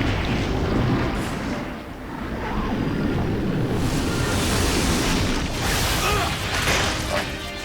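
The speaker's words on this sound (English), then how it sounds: "That was a good explosion." A big in-game explosion in Resident Evil: Code Veronica, a loud sustained roaring rumble with wash-like debris that swells and holds over several seconds, with no voices over it.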